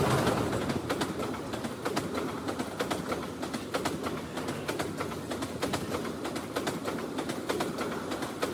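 A train passing through the forest of Lawachara National Park near Sreemangal, a steady rhythmic rumble and clatter of rolling wagons close by, with birds and pigeons cooing throughout.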